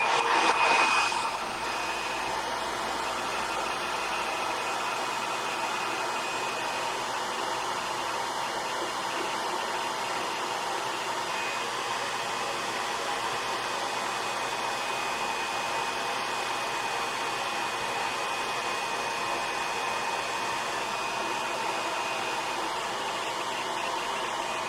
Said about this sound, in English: this dries very quickly with a hairdryer